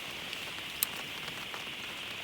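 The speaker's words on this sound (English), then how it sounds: "It's actually started raining" Steady rain falls at a bush campsite in Central West New South Wales, Australia, a continuous close hiss of drops pattering on surfaces, with no voices.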